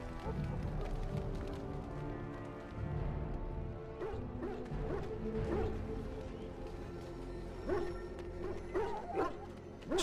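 Hounds in the Dragon Age: Origins war camp at Ostagar bark and yip repeatedly, some whimpering, over a low murmur of camp ambience, the barks coming in irregular bursts at moderate distance.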